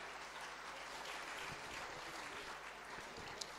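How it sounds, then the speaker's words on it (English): An audience applauds after a speech at a live memorial day event, a steady wash of clapping heard from a distance at low level, with no voices over it. "Please give him a big round of applause."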